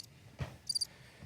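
Cricket chirps sound as a brief comedic silence effect, a few short high trills in quick succession, faint and alone over a quiet background.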